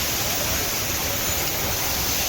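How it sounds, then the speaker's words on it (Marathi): A large waterfall on the Kedarnath trek near Bhimbali roars in a steady, dense wash of falling water that stays even and loud throughout. "थोडं पाठी एक मोठा धबधबा लागतो."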